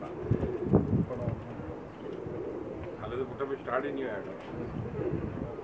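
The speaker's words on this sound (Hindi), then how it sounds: "उस्ताद सखी साहब के घर का कबूतर है, 8 नंबर टैडी।" A pair of Pakistani pigeons cooing in low, throaty rolling calls close by, with wind noise and someone talking over them.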